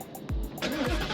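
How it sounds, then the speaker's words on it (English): A 2022 Ford Mustang GT Premium's 5-liter, 450-horsepower naturally aspirated Coyote V8 cranks briefly, then catches and flares with a sharp rev, heard from inside the cabin. "Let's go ahead, guys, and get this engine going."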